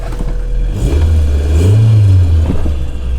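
A car engine revs and climbs in pitch during a short test drive to check the gears, loud and close, rising to a peak midway and then easing back, with no talking.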